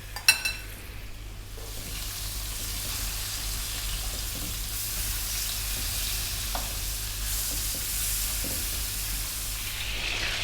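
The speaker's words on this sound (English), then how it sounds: "You can hear that I wasn't frying it in a rage" Spicy chicken legs fry in a pan with a steady, even sizzle, with occasional soft knocks and scrapes as the pieces are turned, continuous and close.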